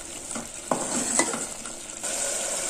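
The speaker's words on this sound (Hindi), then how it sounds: "दही का पानी सूखने तक इसको हम भूनेगा।" Chicken liver masala with yogurt being stirred and fried in a pan, a steady sizzle with a few sharp scrapes of the spoon against the metal, close and alone without any talk.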